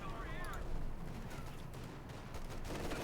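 Machine gun fire in the strategy game Company of Heroes 2, a steady dense rattle of shots over battlefield noise lasting the whole stretch, with a voice commenting over it.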